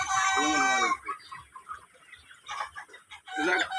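A flock of chickens, frightened in the summer heat, cluck and squawk loudly up close, with a burst of agitated calls at the start, scattered softer clucks through the middle and another loud burst at the end.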